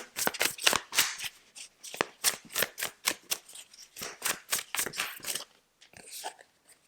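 Tarot cards are shuffled close by in quick, crisp riffling bursts that come in an uneven rhythm for several seconds and then fade into scattered soft slides.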